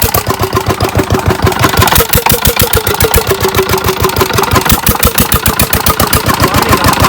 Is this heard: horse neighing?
no